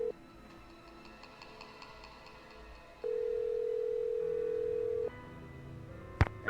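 Telephone dialing a call in the Nancy Drew video game: a steady dial tone hums, then a louder continuous tone holds for a couple of seconds before a shorter tone and a sharp electronic blip close it out.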